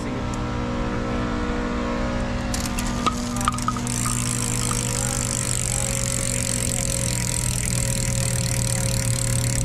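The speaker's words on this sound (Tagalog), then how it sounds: "Yan guys, na yung tunog ng XTRS MTB hubs kapag naka-free wheel" Continuous fine ticking from an XTRS MTB rear hub freewheeling on a mountain bike, a steady rapid clicking heard close up over a constant background hum.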